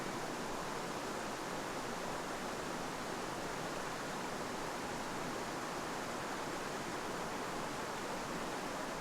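Waterfall at Roughlock Falls in the Black Hills, a creek cascade: a steady, dense broadband roar of falling water, close and constant throughout with no voices.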